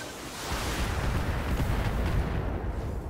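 Mech weapons firing at a Javelin in Battletech, a dense roaring barrage of blasts and rumble that runs unbroken and loud for a few seconds, with no talk.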